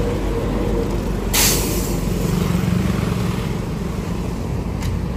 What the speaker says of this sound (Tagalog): Ako ay hindi pa makatawid dahil maraming mga sasakyan.